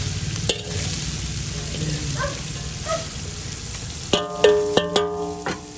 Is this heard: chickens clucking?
no